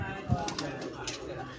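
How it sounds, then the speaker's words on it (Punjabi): Flying pigeons, a mixed flock of red-eyed and Lahori birds on a rooftop, give soft, low coos in short bursts while someone talks over them. "ਕਬੂਤਰ ਉੱਡ ਹੀ ਜਾਂਦਾ"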